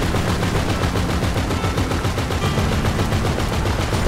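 Loud, continuous automatic gunfire from a vehicle-mounted gun in GTA 5 during a bunker mission with a half-track, dense rapid bursts filling the whole stretch with no break.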